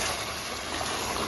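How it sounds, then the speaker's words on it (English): Boiling water poured into a cooking pot of chicken and chickpea curry, a continuous broadband rushing gush held steady and fairly loud for the whole short moment with no talk. "now what we're going to do is add some boiling water into here"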